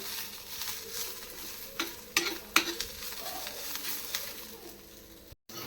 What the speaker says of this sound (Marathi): तोपर्यंत तर मी ढवळत आहे कांदो